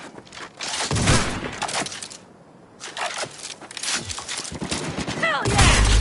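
Bursts of gunfire in a Cyberpunk 2077 shootout, loud rapid volleys with a brief lull midway, mixed with shouting voices.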